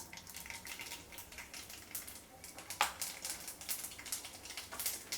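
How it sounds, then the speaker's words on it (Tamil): Mustard seeds sizzle and pop in hot oil in a kadai for a Tamil potato fry, a bright crackling hiss with rapid irregular spits, fairly quiet and close, no talking. "எண்ணெய் காஞ்சிருச்சு. அடுத்து கடுகு போட்டுடலாம்."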